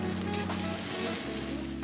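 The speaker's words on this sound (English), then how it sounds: "Do you hear that sizzling?" Steady, loud sizzling of vegetables frying on a hot grill, a continuous crackling hiss with a low hum underneath.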